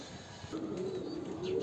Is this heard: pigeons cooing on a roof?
yes